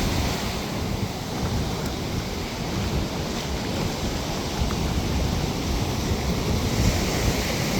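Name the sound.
ocean waves breaking on the beach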